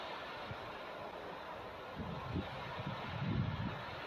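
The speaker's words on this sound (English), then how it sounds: "Listen to that wind." Wind blows steadily outdoors at a boondocking campsite, a broad continuous rush with low buffeting gusts against the microphone that swell and thicken toward the end.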